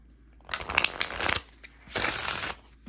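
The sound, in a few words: shuffling new Halloween Tarot cards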